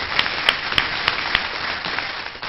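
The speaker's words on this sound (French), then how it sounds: "vous pouvez certainement l'applaudir à nouveau" Audience at a geospatial strategy conference applauding a speaker, a short burst of fairly close clapping with a few distinct sharp claps standing out over the dense patter.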